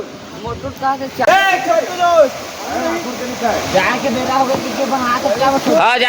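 A forest waterfall pours steadily at a picnic outing, its constant rushing wash running beneath people talking loudly and continuously throughout.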